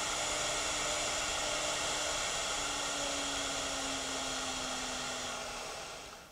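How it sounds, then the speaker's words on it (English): Baileigh WR-84V CNC wood router spindle cutting, a steady high hiss with a faint tone that slowly drops in pitch, moderately quiet and continuous, fading at the very end. "We can hold shift down and hit the number 7 key and increase our spindle speed as it's cutting as well"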